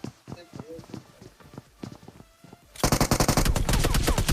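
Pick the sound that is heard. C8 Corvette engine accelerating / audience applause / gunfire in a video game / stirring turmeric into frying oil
gunfire in a video game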